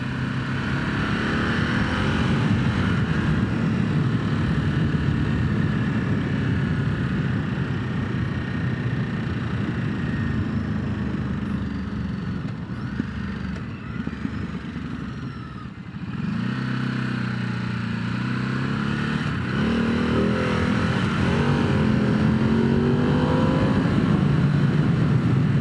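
Ducati Hypermotard 950 SP motorcycle on a winding road, engine note dropping as it brakes and downshifts, with a constant rush of wind and a brief dip then renewed engine drone.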